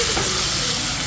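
Oil heats and sizzles in a frying pan, a brief loud burst of hissing and crackling.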